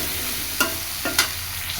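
Washed taro (kochur mukhi) dropped into hot oil tempered with cumin and green chili, a steady sizzle with a few brief stirring scrapes over under two seconds.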